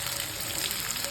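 Three large chopped onions frying in hot oil for an Andhra-style onion chutney, a steady close hiss and crackle of sizzling with no talk.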